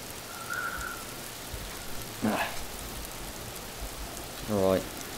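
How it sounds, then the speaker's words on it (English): Loud, steady rain hisses through a dark scene in the video game Vermintide, with a couple of brief voice-like calls rising above the downpour. "Some pretty loud rain."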